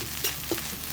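Garlic rice with onion being stirred in oil in a pan, a soft steady sizzle with two brief louder scrapes of the spoon, close and alone without talk.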